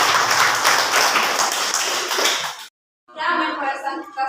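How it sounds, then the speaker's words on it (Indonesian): Classroom clapping from students, a dense burst of many hands for about two and a half seconds, then a short silence and a second round of clapping mixed with chatter. "Ya, berikan tepuk tangan."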